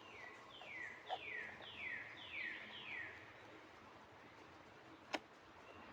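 Small birds chirp outdoors on a mild day, a series of short rising chirps repeated in quick succession, fairly faint over a soft background hiss, with a single sharp click near the end.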